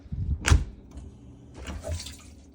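Water rushing into a household appliance as its cycle starts, a sudden thump followed by soft hissing inflow that swells again later, moderately quiet and close, with no speech.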